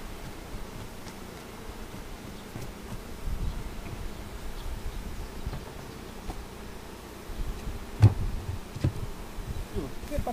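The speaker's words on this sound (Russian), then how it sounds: "пчела вся взлетела в воздух." Honey bees swarming in the air around an opened hive during honey harvesting, a dense steady buzzing drone close by with a sharper bump around eight seconds and no talk.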